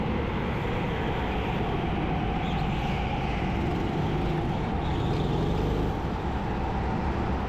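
Racing karts idling and creeping into grid positions inside an indoor hall, a steady loud dense engine drone filling the space without pause, near and continuous with no clear voices.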